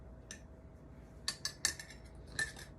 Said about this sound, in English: And then you just stir it around,